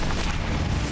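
A spell blasting something apart in Hogwarts Legacy: a loud, dense, rumbling boom that fills the whole second, steady and close, with no voices.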